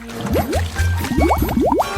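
Something smelly is dropped back into water during a cooking challenge, giving a run of quick rising, bubbly bloops and splashy liquid sounds in close succession, loud and up front.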